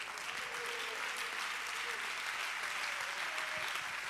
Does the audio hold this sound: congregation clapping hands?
yes